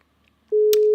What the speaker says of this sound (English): You can hear it ringing.